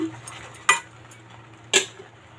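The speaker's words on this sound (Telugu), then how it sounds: "ఇప్పుడు అంతా బాగా కలిపేసి బాగా దగ్గరికి వచ్చేంత వరకు బాగా కలుపుకుందాము" Jaggery palkova being stirred in a pan with a spoon, giving two sharp metallic clinks against the pan over a faint steady hum, no talking.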